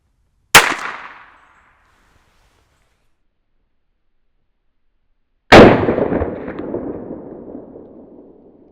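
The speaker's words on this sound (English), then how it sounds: "I've got a single round loaded into the little mini revolver here." Two sharp shots from a tiny mini revolver fired into half-inch drywall, the first a brief crack, the second louder with a longer ringing decay, separated by a few seconds of silence.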